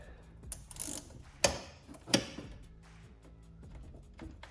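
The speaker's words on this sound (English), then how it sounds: "So take this bolt out, and all you do is take the other bolt out." A 10mm wrench works a battery bolt loose on a John Deere lawn tractor, giving a few quiet, sharp metallic clicks and clanks over faint background noise, with no talking.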